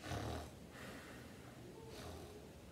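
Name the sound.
children imitating snoring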